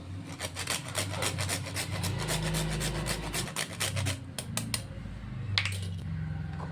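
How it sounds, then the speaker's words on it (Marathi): Nutmeg rubbed against a grater in a home kitchen, a steady rapid rasping scrape near and moderately loud, thinning into a few scattered strokes toward the end. "इथे मी जायफळ किसून टाकणार आहे"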